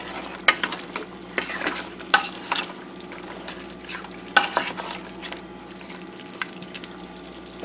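A utensil stirs goat stew with onions, peppers and cilantro in a pan, giving sporadic scraping clinks over a soft continuous sizzle, close and moderately quiet.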